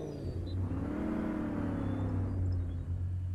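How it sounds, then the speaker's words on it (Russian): Chevrolet Suburban GMT400 engine in the video game Spin Tires, running steadily with a low droning hum and a rising whirring tone, close and continuous with no speech. "Давайте автомобиль сразу заведем."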